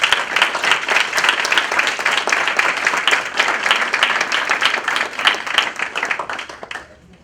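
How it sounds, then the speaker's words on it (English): A crowd at a school board meeting breaks into loud, sustained applause, with dense clapping that carries on for several seconds and then tapers off at the end. "Round of applause for Alonzo and Bridget Patrick."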